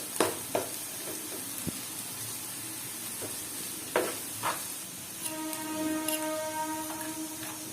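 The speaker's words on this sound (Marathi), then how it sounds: "आता आपण हा कांदा 2 मिनिटं चांगला भाजून घ्यायचा आहे." Sliced onions with cumin seeds frying in oil in a pan, a soft steady sizzle broken by several sharp spatula clicks and scrapes, with a faint tonal whine in the background.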